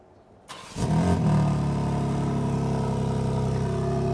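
A BMW M3 Competition fires up: a brief starter whir, then the engine catches with a loud flare and settles into a steady, rumbling idle close by.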